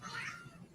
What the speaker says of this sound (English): I don't know if you guys could hear him meowing.